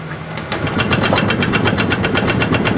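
A wood lathe turning a large eucalyptus piece, oversized for the machine, shakes with a loud, steady rhythmic thumping and knocking under the motor's drone, close up and continuous.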